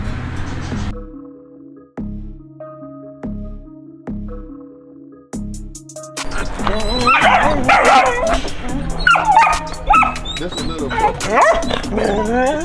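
A little puppy yips and whimpers in a rapid, excited run of high cries close by, following a stretch of repeated rhythmic electronic tones, with someone speaking at the start.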